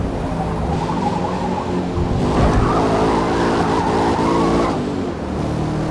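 Chevrolet Camaro tyres sliding and squealing in the Forza Motorsport racing game, set over a steady, close engine growl that builds in the middle and stays loud throughout, with no talking.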